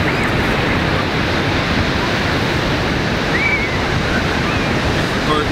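Ocean surf washes up on Huntington Beach as a steady, loud, broadband roar of breaking waves with some wind noise, continuous throughout with no distinct pauses.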